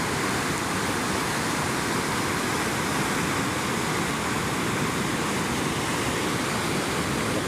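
Heavy rain pours alongside a strong current of rushing floodwater, forming a loud, unbroken wall of hiss and roar that holds steady throughout with no talking.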